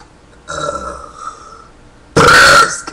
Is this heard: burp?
yes